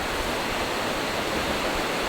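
River flowing beside a campsite on a rainy day, a dense steady rushing wash with no breaks, loud and close, no voices.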